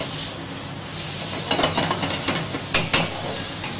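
Sliced leeks and onions sweat gently in a pan for pumpkin soup, giving a soft, steady sizzle broken by a few clicks and scrapes of stirring.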